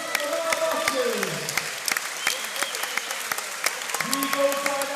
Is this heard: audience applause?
yes